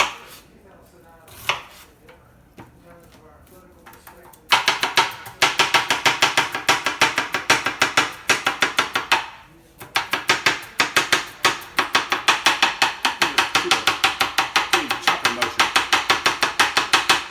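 Vegetables for Greek stuffed tomatoes and peppers are chopped coarsely with a knife on a board, first in a few scattered cuts and then in a fast, steady run of close, crisp knocks.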